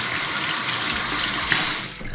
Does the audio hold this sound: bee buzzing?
no